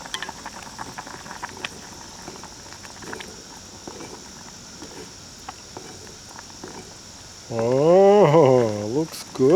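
Soup bubbles in a pot over a camp stove in the woods, a soft continuous simmering patter close by with crickets chirping in the background, and a person speaks briefly near the end.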